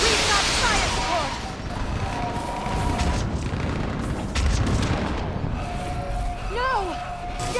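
Artillery fire support booms and gunfire in the Mass Effect 3 battle on Thessia, with repeated heavy blasts over a loud, dense war din, while voices shout underneath.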